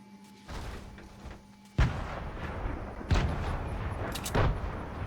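Several heavy booming bomb blasts in the video game Fortnite go off one after another, each a sharp low thump with a rumbling tail, amid a continuous noisy background.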